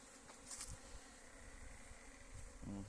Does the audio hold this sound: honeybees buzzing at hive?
yes